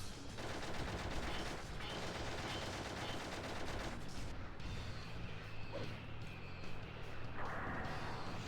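Rapid continuous gunfire in the Shadow the Hedgehog video game, a dense sustained stream of shots over game noise at moderate level.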